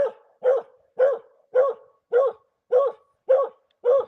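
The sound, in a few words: dog barking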